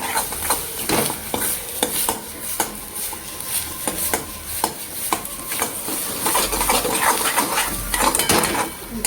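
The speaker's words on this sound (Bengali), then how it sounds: "দেখো ডিমটা একটু ভাজা ভাজা করতে হবে যাতে কড়াই থেকে এটা ছেড়ে দেয়" Eggs sizzle in a wok while a metal spatula scrapes and clatters repeatedly against the pan, a busy rhythm of stirring taps over continuous frying hiss.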